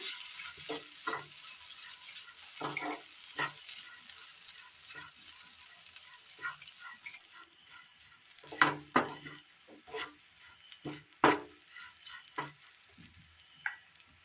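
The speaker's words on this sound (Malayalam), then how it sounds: "ചതച്ചു കൊണ്ടുവന്ന ബീഫ് ഇട്ട് കൊടുക്കാം. മിക്സ് ചെയ്തെടുക്കാം." Crushed beef hits a hot pan and sizzles, then gets stirred with scraping strokes that come in irregular bursts. The stirring grows louder and more clustered toward the end, with no voices.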